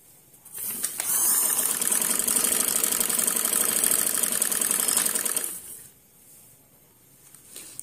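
A sewing machine with a presser foot stitches fabric in one fast, steady whirring run of a few seconds, close and loud, then stops, leaving quiet room tone.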